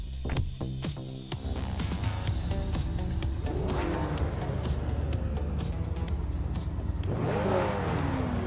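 Classic 1980s street cars race at Knockhill in a racing game, with engines revving hard and climbing through the gears, tyres squealing, and a loud continuous roar from several cars passing close by.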